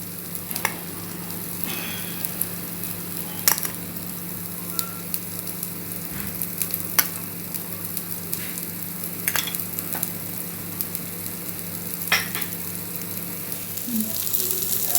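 Oil spatters and sizzles steadily around unniyappam frying in an appam pan, with a constant crackling hiss and occasional sharper pops close by, and no speech.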